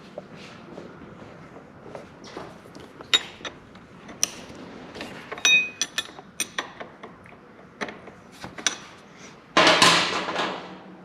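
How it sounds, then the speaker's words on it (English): Tools working the front fork cap loose on a 2016 Suzuki RM 85 dirt bike: scattered metallic clicks, creaks and taps, ending in a louder burst of ratcheting or spinning metal. "So what we'll do first is we'll just spin the cap loose here."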